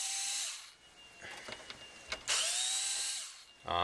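A power screwdriver backs screws out of a PS3 console during a teardown: two high, whining motor runs of about a second each, separated by a few small clicks and handling knocks, close and clear.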